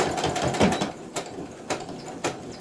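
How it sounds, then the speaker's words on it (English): A sewing machine stitches a fabric mask in short, clattering bursts separated by brief pauses, close and moderately loud, with no talk. "And sew it to the very end."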